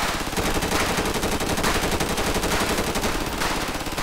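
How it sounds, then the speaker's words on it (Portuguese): Sustained, rapid machine gun fire in the video game GTA 5, loud and continuous bursts filling the whole stretch with no pauses. "o cara tá com a machine gun ali"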